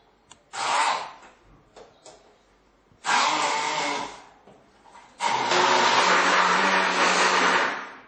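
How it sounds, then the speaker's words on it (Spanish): A handheld immersion blender purées anchovies, cheese and olives, whirring up in short bursts, then running steadily for several seconds, loud and close, its motor pitch shifting as it works. "vamos a meter la batidora"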